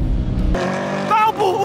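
Cars revving and accelerating hard during a street race between a Camaro, a BMW Z4 and a turbocharged VW Beetle, a loud, close engine roar with rising tones, heard under someone talking.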